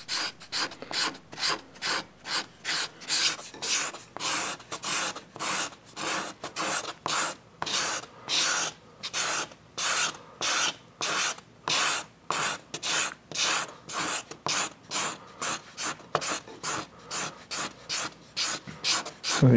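A sharp hand scraper carves the wood of an archtop guitar in repeated rhythmic strokes, about two per second, each a crisp close rasping shave with brief pauses between, no talk.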